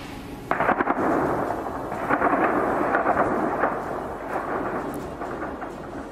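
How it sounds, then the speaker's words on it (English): Gunfire and explosions echo across a capital city at sunrise: continuous rumbling booms with sharp cracks scattered throughout, loud and echoing, a steady roar of distant blasts and shots. "gunfire and explosions echoing around the city"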